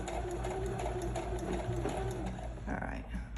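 A sewing machine stitches a blind hem with a blind hem presser foot, its motor whirring steadily with a soft needle rhythm throughout, fairly close and continuous.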